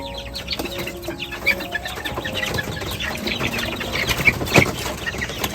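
Gamefowl chickens of the Mac Ray strain cluck and chatter steadily in a yard, with scattered short calls and a brief wing flap, fairly close and with no talking.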